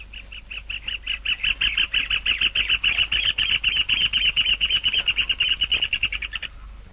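A rufous hornero (João de Barro) calls in a rapid, continuous series of loud, shrill repeated notes lasting several seconds, close and clear with no talk, ending abruptly.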